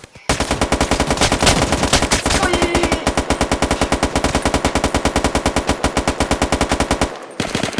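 Rapid automatic gunfire in the video game Roblox, a long, loud, evenly paced burst of shots firing nonstop for about seven seconds before cutting off abruptly.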